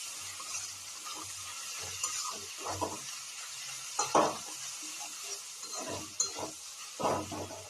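Onions frying in a pan for a chicken dish in a home kitchen, a low steady sizzle broken by repeated stirring scrapes and light clinks, close by with no talking.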